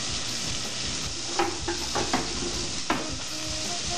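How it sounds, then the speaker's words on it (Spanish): Beef chunks for bourguignon searing in a hot pan, a steady loud sizzle broken by a few sharp clacks and stirring scrapes, no voices. "Vamos a proceder a sellar la carne"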